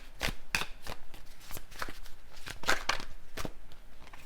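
Tarot cards are shuffled by hand and a single card is drawn, producing a run of crisp, close riffling flicks and slaps in an uneven rhythm against a quiet room.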